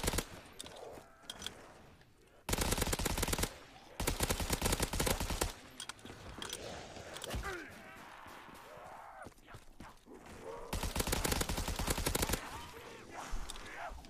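Rapid bursts of automatic gunfire in a custom zombies video game, loud and dense, coming in several multi-second volleys between quieter stretches of game sounds.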